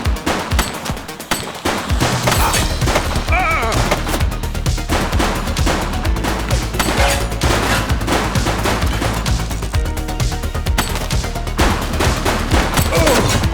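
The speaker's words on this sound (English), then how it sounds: "Shots fired!" Sustained rapid gunfire from the police video game The Precinct, set in the 1980s, rattles loud and dense for over ten seconds, with machine-gun bursts and overlapping shots and only a brief quieter stretch at the start.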